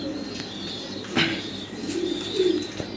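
Andalusian Holy Cropper pigeons, a newly paired adult couple, give soft low cooing calls in a steady run, with a brief flutter near the middle and no talking.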